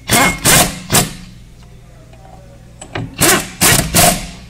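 A tool tightens the brake caliper bolt on a Hyundai Elantra, with a few loud, close ratcheting bursts separated by a quieter pause.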